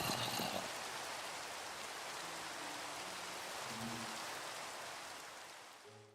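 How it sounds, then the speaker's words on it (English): Steady rain in the video game Minecraft, a constant soft hiss of falling drops that fills the whole stretch evenly at a low, quiet level. "Why is it always raining?"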